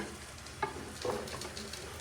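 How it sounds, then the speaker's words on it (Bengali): Green chilies frying in a pan, a soft steady sizzle with a few brief stirring scrapes, close and quiet. "কাঁচামরিচ দিয়ে কিছুক্ষণ ভেজে"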